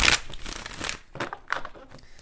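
Tarot cards being shuffled close by in a few quick papery bursts of riffling and slapping, with softer handling rustles between them.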